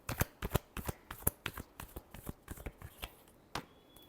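Tarot cards are shuffled by hand in a run of sharp, crisp flicks and riffles, close and fairly soft, arriving in an irregular rhythm with brief pauses and no talking.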